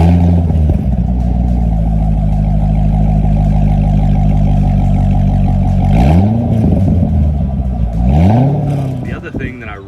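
A C6 Corvette Grand Sport with the NPP dual-mode exhaust rumbles loud and deep at idle, then revs twice in quick swells that settle back, while someone talks over it.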